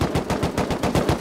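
A rapid burst of automatic gunfire from the Rust video game: about ten evenly spaced, loud shots in quick succession, with no talk over them.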